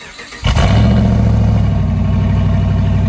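A 2008 Ram 1500 SLT pickup truck engine cranks briefly on its first start with new pipes, then catches and roars to life, revving loud and close before settling into a heavy rumble, with an exhaust leak.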